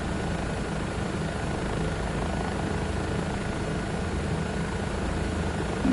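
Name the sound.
Bell 407 helicopter in Microsoft Flight Simulator 2024 video game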